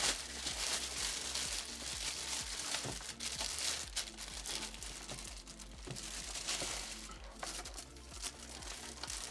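Packaging crinkles and rustles as a Thrustmaster T500 RS racing wheel with Gran Turismo logo is unboxed, a quiet, continuous stream of close crumpling and tearing sounds.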